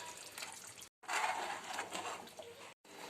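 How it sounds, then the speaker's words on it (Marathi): Tamarind water pours steadily into a pot of fish curry with a soft, continuous splashing wash, broken by two brief silent gaps. "आता टाकायचं आहे चिंचेचं पाणी"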